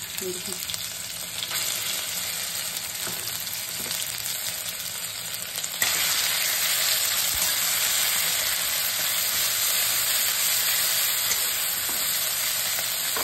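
Fennel tempering and ginger paste frying in a pan for a tomato chutney, giving a loud, continuous sizzle with occasional stirring scrapes that grows slightly louder partway through.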